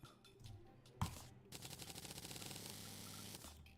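Bombs and TNT going off in Terraria: one sharp blast, then a dense rapid rattle of crackling explosions that runs for about two seconds before stopping abruptly, loud and close.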